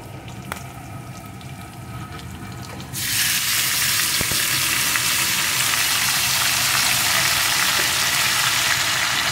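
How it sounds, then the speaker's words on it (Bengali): Marinated country chicken hits hot oil with fried spices in a home curry pot, a loud steady sizzle that jumps sharply and stays strong, with occasional stirring clinks and no talk. "চিকেনটা এখন এই সব কিছুর সাথে একটু কষিয়ে নেব।"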